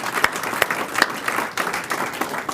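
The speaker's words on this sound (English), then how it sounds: "I think we owe him a round of applause there." A room of diners applauds at an astronomy society's annual dinner meeting, a moderate crowd clapping with distinct individual hand strikes standing out from a continuous patter.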